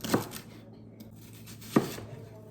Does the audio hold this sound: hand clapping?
no